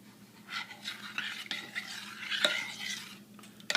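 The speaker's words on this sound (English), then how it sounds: "Pour my milk in there. And that just gives it the creamy consistency, I guess. And just give it a quick stir." A spoon scrapes and swishes through Idahoan instant mashed potatoes as milk is stirred in, producing soft repeated wet strokes and light clinks against the dish, heard close up and fairly quiet.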